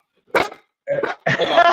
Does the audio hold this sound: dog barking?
yes